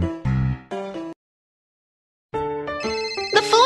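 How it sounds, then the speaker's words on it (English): A cartoon telephone rings in bright electronic tones, two short bursts, then a pause of silence, then another longer ringing run that climbs higher at the end. "The phone's ringing."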